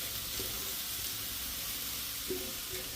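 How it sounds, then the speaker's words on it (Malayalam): Mustard seeds crackle in hot oil for a chembu-leaf thoran, a steady fine sizzle with a few sharper pops scattered through, close and alone with no voices. "കടുക് പൊട്ടുന്നു"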